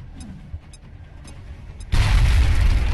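A frag grenade detonates in the video game XCOM Long War: a loud, sudden boom at about two seconds that swells into a sustained rumbling roar, preceded by quiet game ambience and faint ticks.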